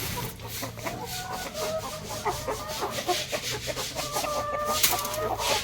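Chickens fighting in a scratch pen, with steady clucking and squawking and a rooster-like call over continuous scratching and rustling, close by.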